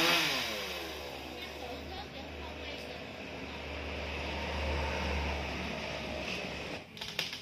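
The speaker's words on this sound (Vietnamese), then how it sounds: "Đó chú cưa gần đứt nha các bạn." A chainsaw cuts through a large khaya tree branch up on a house roof, a steady droning buzz at moderate distance that holds for several seconds, with a rattling sputter near the end.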